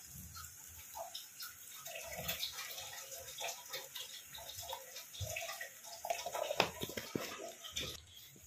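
Water in a pan coming to the boil for a Bengali rohu fish curry, with soft bubbling, popping and gurgling at close range, steady throughout with small sharp pops, no talking.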